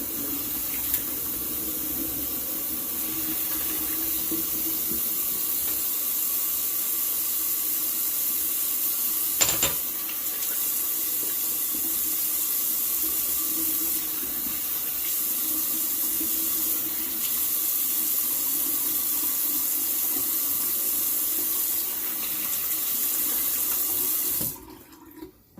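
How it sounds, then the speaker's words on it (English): Steady running water from a tap, a continuous even rush that fills the whole stretch before cutting off near the end. "Go ahead and do a cold water rinse."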